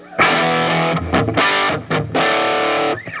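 An electric guitar is played through a Timmy overdrive from a Helix into an amp's gain channel, producing loud, gritty distorted chords in short sustained bursts separated by brief gaps.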